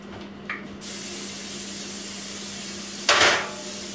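A short hiss of cooking oil spray onto a pan opens the clip, then a louder, longer spray burst follows later against steady background hum.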